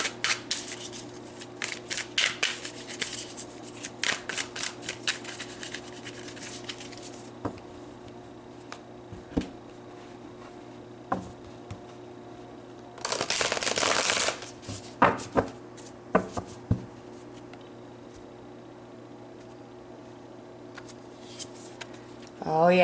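Tarot cards being shuffled by hand in repeated bursts of close, crisp riffling and flicking, with a longer dense shuffle partway through and soft handling sounds between.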